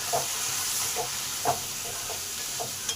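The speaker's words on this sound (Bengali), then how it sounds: "পটল আর চিচিঙ্গার মধ্যে নুন আর হলুদটাকে মিশিয়ে নিলাম" Pointed gourd and snake gourd are stirred with salt and turmeric in a pan, soft scraping strokes recurring roughly every half second over a low background sizzle.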